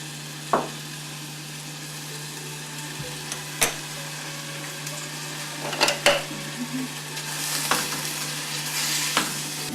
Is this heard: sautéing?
yes